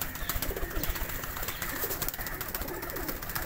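Pigeons of teddy (Ferozpuri) and golden breeds coo continuously in a busy loft, with dense overlapping calls and rustling close by and no talking.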